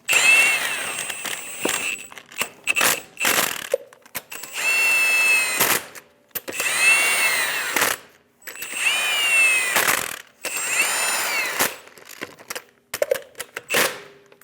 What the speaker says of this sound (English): Snug down the lug nuts.